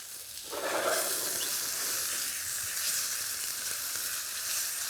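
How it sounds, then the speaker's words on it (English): Farm fresh eggs frying in a pan for a breakfast wrap at a farmers market, a bright continuous sizzle and crackle that swells after a moment and stays steady, close and fairly loud with no one talking over it. "It's surely sizzling"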